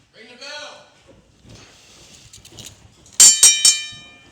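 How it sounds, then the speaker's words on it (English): At an independent pro wrestling show, a ring bell clangs three times in quick succession, loud and sharp, following an announcer's voice and faint crowd noise. "Ring the bell."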